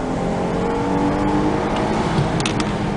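A Mercedes-Benz S350 engine revs after a downshift from second to first, a steady close drone of motor and road noise filling the stretch with no talk.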